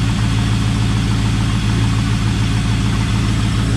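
An LS1 V8 swapped into a Nissan Patrol idles smoothly and evenly, a loud, steady, close-up rumble with no backfiring and no talking.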